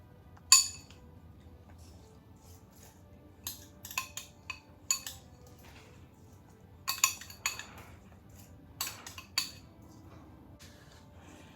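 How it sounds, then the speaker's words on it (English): Seasoned butter spooned over pepperoni pizza sliders: sparse metallic clinks of a spoon against a bowl and pan, quiet and close, with pauses between taps. "So now we're going to spoon all over our sliders."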